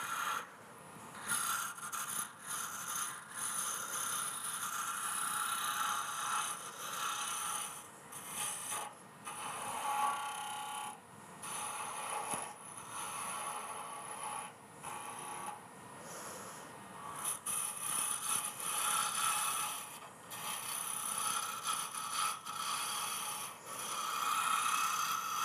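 Someone sands a turned wooden bowl with a free-form foot, making a continuous close, raspy scratching that rises and dips in short strokes for the whole stretch, with no speech.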